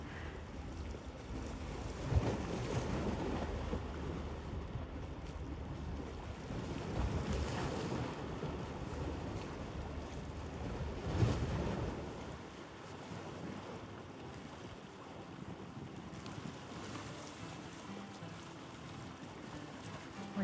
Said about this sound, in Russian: послушать этот шум прибоя